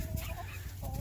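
Chickens and chicks cluck softly and continuously in a farm enclosure, close and steady with low background noise.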